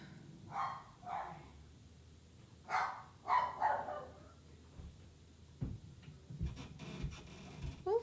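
A pet dog barks in a few separate bursts of two or three barks, moderately close and fairly loud, with quieter household noises in between.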